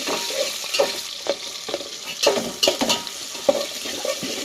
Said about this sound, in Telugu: ఇంకన్నీ బాగా ఫ్రై చేసుకున్నామండి